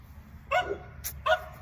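Two sharp dog barks ring out close by, about three-quarters of a second apart, with a short higher yelp between them over a quiet background.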